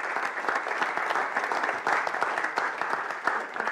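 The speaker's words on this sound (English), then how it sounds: "Give him a round of applause as he comes out." A comedy gig crowd claps steadily as someone walks out on stage, a full, even patter of many hands, moderately loud and continuous throughout.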